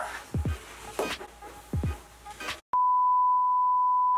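An electronic timer sounds one long, steady, loud beep at the end of a chicken nugget eating challenge, following scattered thumps and handling noises.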